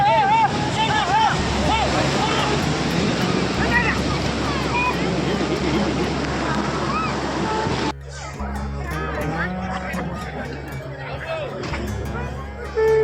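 Sea waves break on the beach at Puri where fishing boats are brought ashore, making a loud, steady roar of surf with wind buffeting and a murmur of crowd voices.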